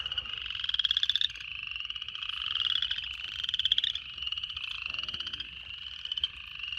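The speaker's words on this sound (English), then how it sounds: "But still a lot of chorus frogs, and still a lot of toads" A dense chorus of frogs calling together, overlapping trilling croaks in steady pulsing bursts, fairly close and continuous with no voices.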